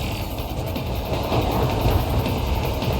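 A moving train in the action video game Metal Gear Rising: Revengeance, a steady low rumble with faint rhythmic mechanical clatter running continuously, no voices.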